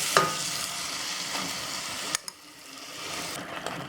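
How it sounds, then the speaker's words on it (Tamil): Masala with ground coconut paste is stirred and lightly fried in a pan for chana pulao, a hissing sizzle broken by a few scraping clicks of the spoon near the middle, close by. "இது கூட நம்ம அரைச்சி வச்சுருக்க தேங்காய் பேஸ்ட்டையும் இதில் சேர்த்து லைட்டாக வதக்கிக்கலாம்"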